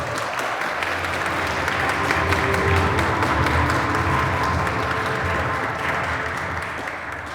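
Sustained applause from an award ceremony audience, many hands clapping steadily and fairly loud, gradually tapering toward the end.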